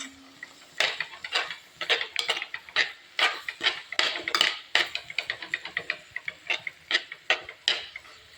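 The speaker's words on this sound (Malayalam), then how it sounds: "രണ്ട് മിനിറ്റ് കൂടി ഒന്ന് ഇളക്കി കൊടുക്കാം" A spoon stirs spinach and grated coconut around a pan in a steady series of scraping, tapping strokes. The utensil knocks sharply and rhythmically against the metal, close by, in an otherwise quiet kitchen.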